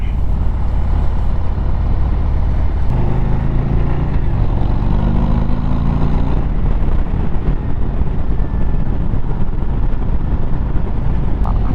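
Harley-Davidson Road Glide ST motorcycle cruising with strong low-gear pull, a loud continuous engine rumble with wind roar and a brief rise in pitch mid-ride, no talking.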